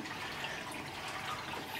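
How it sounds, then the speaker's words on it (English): Steady trickling and gurgling of aquarium water siphoned through a hose into a pail, continuous and fairly quiet with no voices. "So I just use my hose and my siphon."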